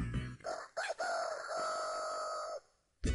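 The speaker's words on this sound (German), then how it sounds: "Das mit dem Hahn finde ich ja immer ganz putzig." A rooster crows in the 1994 Sega Mega Drive Winter Olympics game Lillehammer 94, one drawn-out, fairly loud electronic cock-a-doodle-doo lasting about two seconds and standing alone, with brief clicks before and after.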